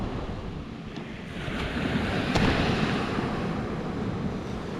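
Sea waves wash onto the beach at Skegness North Shore in a continuous broad rushing surge mixed with wind buffeting the microphone, steady and close with no voices.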